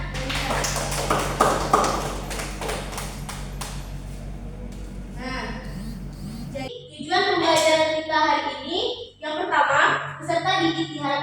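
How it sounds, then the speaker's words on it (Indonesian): Students in a classroom clap for a classmate, a burst of rhythmic hand claps that thins out over a few seconds before a teacher begins speaking over the room's hum. "Tepuk tangan."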